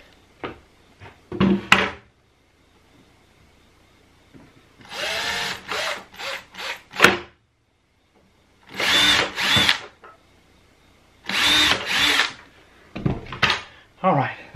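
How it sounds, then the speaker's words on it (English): A power drill pre-drills screw holes in wood for a miter saw cart build, with about four separate bursts of whirring at close range, spaced by short pauses and a few knocks. "I'm going to go ahead and do a little pre-drill on this to make it easier to get these awkward"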